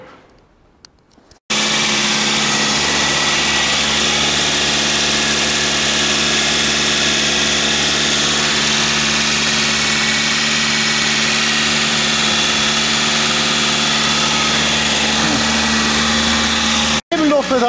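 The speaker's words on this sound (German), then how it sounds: "Ich habe noch 1700 Umdrehungen, aber immer noch so einen Leerlauf." A Derby project car engine idling high at about 1700 rpm after timing-belt work, a steady close droning hum with a constant tone that cuts in abruptly and runs unbroken for over fifteen seconds before stopping.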